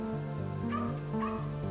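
A dog at an elderly couple's house barks and whimpers in short, yelping calls over a dense, steady musical background. The calls are moderately loud and come in quick succession, with no talk.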